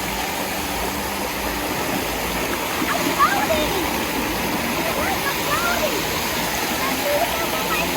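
Constant rushing splash of a pool waterfall pouring into the water, close and loud, a steady broadband roar with children's voices and talk faintly mixed in.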